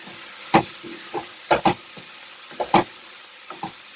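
Vegetables sizzle in a pan on high heat for a potato and cheese soup, a soft constant hiss broken by several louder bursts of stirring and scraping.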